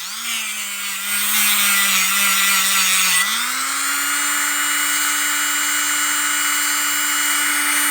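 A Dremel rotary tool bit whines steadily at high pitch while working on a part of a 1961 Cadillac DeVille 390, the motor pitch rising once partway through and then holding loud and constant with no talk.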